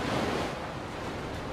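Ocean waves around a racing sailboat near Cape Horn: a dense, steady roar of surf and rushing water mixed with wind buffeting, loud and continuous with no voices.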